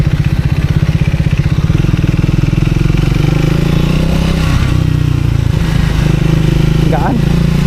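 A Triumph motorcycle engine on a test ride, either a T900 adventure bike or a Speed 400, thumps close and loud in a rapid pulsing rhythm and then settles into a smoother drone, with someone talking over it.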